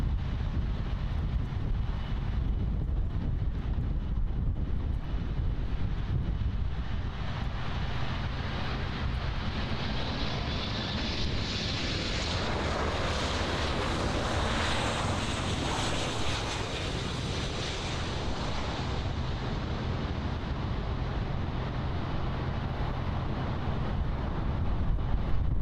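A jet airliner landing on runway 09 at Miami International Airport roars in a steady, distant rumble that swells to a broad whooshing peak midway and then eases back, with wind buffeting the microphone.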